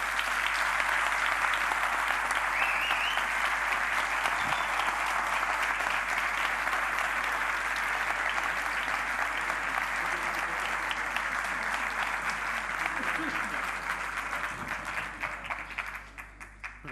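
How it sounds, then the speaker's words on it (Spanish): A conference audience at a blockchain forum gives a long applause during a session. Dense, even clapping holds steady for about fifteen seconds, then thins and fades toward the end, with a faint low hum beneath. "Si hacéis un aplauso, el más largo de toda la sesión, os perdono la pregunta"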